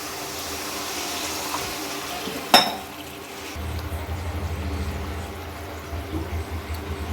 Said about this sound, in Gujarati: અડધા ગ્લાસ જેટલું પાણી નાખશું આપણે।